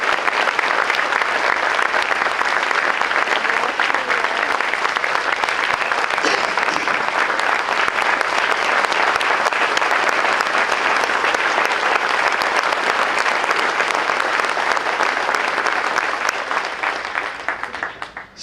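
A big audience at a school district event gives the superintendent a long, loud, steady round of applause, dense crowd clapping that tapers off only at the very end.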